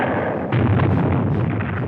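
Big guns fire with a loud, thunderous roar that rumbles on continuously and close, with no separate shots standing out. No voices are heard.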